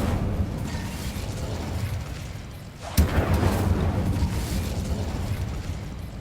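An Incendio fire spell is cast in the Hogwarts Legacy video game, landing as a sudden burst at the midpoint over a dense, steady backdrop of game combat and ambience.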